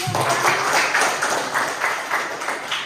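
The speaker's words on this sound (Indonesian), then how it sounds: "Ya, tepuk tangan dulu." Applause from an audience of students during an Indonesian classroom talk, a short patter of clapping with a loose rhythm, moderately loud and close, with no speech over it.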